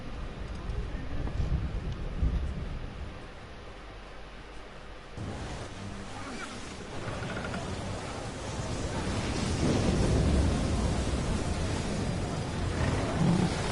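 Stormy sea ambience in Assassin's Creed 3: a steady roar of wind and crashing surf pressing on a sailing ship, rising louder toward the end, with a few faint voices in the background.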